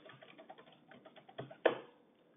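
Quiet computer keyboard typing nearby, a run of soft light key taps followed by a couple of louder, heavier keystrokes near the end.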